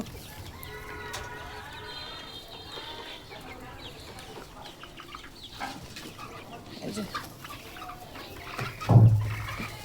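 Chickens on a small poultry farm cluck and chatter at close range, several birds overlapping, with a louder thump near the end.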